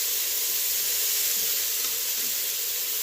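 Shrimp sear in a Ninja Foodi pressure cooker pot, giving a steady, close sizzling hiss that holds even throughout with no voices.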